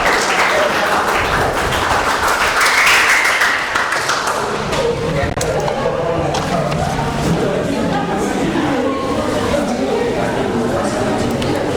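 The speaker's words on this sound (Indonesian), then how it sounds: "Aplaus." Audience applause at an Islamic religious education teacher exam session, loud clapping that swells early then thins into scattered claps, with a voice talking over the later part.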